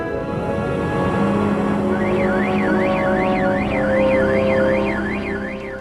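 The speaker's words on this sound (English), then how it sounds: "That noise is an alarm on one of our radars." A weather radar alarm siren signals a strengthening storm, a wavering electronic tone that rises and falls in a regular cycle. It sounds over a steady mechanical hum and starts about two seconds in.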